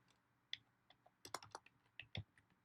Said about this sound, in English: I'm just going to type in here